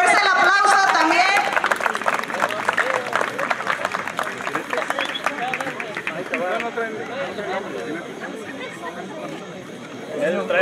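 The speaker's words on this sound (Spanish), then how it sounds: "Fuerza el aplauso también" A rodeo crowd claps and chatters through a busy arena din, steady bursts of applause mixing with crowd murmur while an announcer's voice carries over the top.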